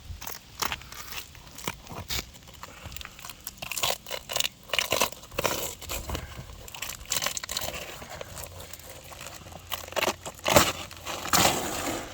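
A hail-damaged asphalt roof shingle is worked loose and slid out, giving a dense run of close, dry crunching, crinkling and scraping noises with irregular bursts and no speech.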